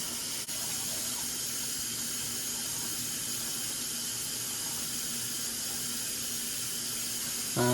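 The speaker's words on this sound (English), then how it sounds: "Grab them by the mouth and just let that water run through them." Tap water running steadily from a faucet over freshly cleaned bluegill fish held at the sink, a constant close rushing splash with no pauses.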